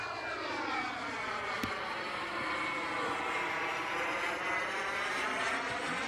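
A BVM T33 model jet cruises at about half throttle in calm air, a steady turbine whine with a sweeping tone that drifts as it passes at moderate distance, one brief sharp click partway through.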